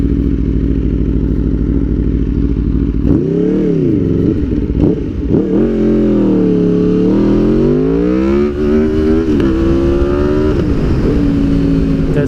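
Motorcycles pass by on a road, loud and close, engines revving and shifting pitch as they go by in a steady stream with no talk.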